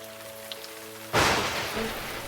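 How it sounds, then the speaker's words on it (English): A heavy downpour starts suddenly after a quiet, faintly humming start, bursting into a dense, loud hiss of rain striking surfaces that keeps going steadily to the end. "Lightning poured from the sky and it rained heavily."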